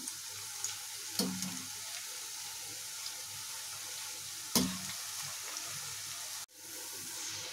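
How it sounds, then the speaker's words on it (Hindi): Potato bhujia fries in hot oil until crisp, giving a steady, close crackling sizzle throughout, with a few sharp clinks and stirring knocks breaking through before a brief dip near the end. "और इसे मैं क्रिस्पी होने तक फ्राई करूंगी।"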